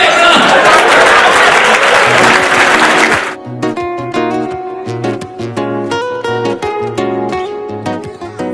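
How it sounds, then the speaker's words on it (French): A crowd at a Douala concert event bursts into loud, dense applause and cheering for about three seconds, then it cuts off abruptly and tuneful music with rhythmic notes carries on alone. "Applaudissez les blancs!"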